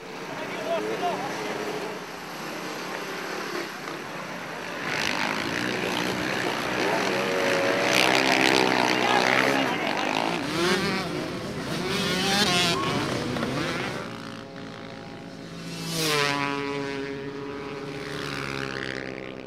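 Motorcycles racing on a sandy endurance course roar past, engine note rising and falling with a loud pass near the middle and another whining by toward the end, with a voice talking over the racket.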